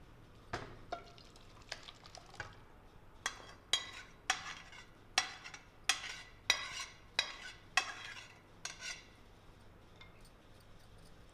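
Spoon scraping and tapping against a pan while mutton curry is stirred and served into a dish, about a dozen distinct clinks in an uneven rhythm, close and fairly soft over quiet background.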